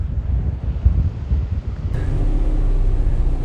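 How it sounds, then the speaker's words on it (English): Strong wind blows outdoors near a golf course in a Free State town, roaring hard against the microphone in a loud, gusting rush with no voices. "I'm telling you, wind is quite strong."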